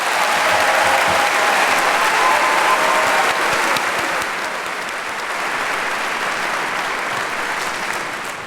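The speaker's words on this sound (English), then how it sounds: "Let's give these fine folks a round of applause." Sustained applause fills a high school graduation ceremony for Lee's Summit North's class of 2019, a broad, even roar of many hands clapping that holds steady and loud, then softens slightly toward the end.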